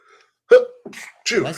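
A single sharp sneeze close by, with a short sharp intake before it and breathy vocal sounds after.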